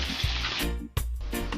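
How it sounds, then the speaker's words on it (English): Grouper and vegetable stir fry sizzles steadily in a hot pan, a close, continuous frying hiss broken by a couple of short dips. "we're stir frying the stir fry"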